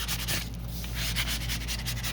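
Paper being rubbed and smoothed flat to push out wrinkles during decoupage of vintage book-page envelopes, a steady close scratchy sanding-like rasp with uneven strokes and no talking.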